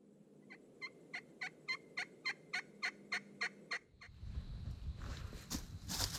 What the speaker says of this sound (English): every time we hear a turkey gobble